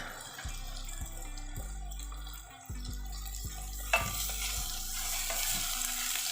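Crushed garlic hits a hot pan with mustard seeds and sizzles, broken by several sharp clinks and stirring knocks, then swells into a louder, steady frying hiss.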